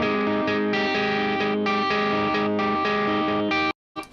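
Electric guitar on a Caparison Design neck pickup with heavy gain and distortion, playing a steady repeating riff of sustained notes for several seconds before cutting off abruptly.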